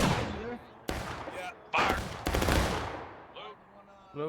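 A volley of musket fire in War of Rights cracks out as several loud ragged bursts in quick succession, the shots overlapping and echoing, with voices heard between them.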